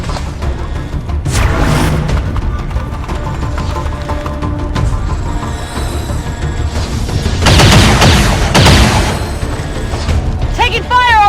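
Automatic weapon fire from the XCOM 2 video game, with bursts and booms, mechanical ratcheting and clanks, loud and dense, rising to heavy volleys near the end.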